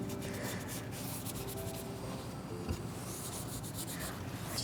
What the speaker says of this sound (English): I'm going to just take a cloth and sort of buff away the excess